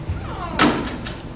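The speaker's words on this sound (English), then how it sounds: "Shut the door behind you." A door is shut in an indoor hall, a single solid thud with a brief rattle that stands out over quiet room tone.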